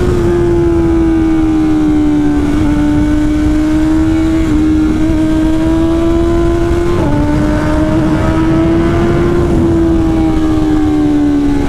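A BMW S1000 liter-bike engine drones loudly while riding, a steady high-pitched tone rising and falling as the throttle shifts through gears, constant and close with wind rush underneath.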